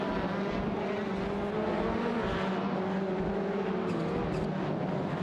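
Cars racing in an AI-driven racing video game, including a Lexus LX 570 and a Mercedes-Benz G63, a continuous layered engine drone with steady whine and hum, sustained at moderate level without speech.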